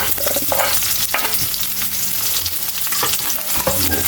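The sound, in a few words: garlic and onion sautéing in a pan for binagoongan bangus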